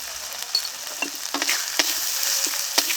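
Spice paste with Kashmiri chili powder, salt and turmeric fries and is stirred for rohu fish kalia, giving a steady close sizzle broken by sharp spatula scrapes and clicks against the pan, with no voices.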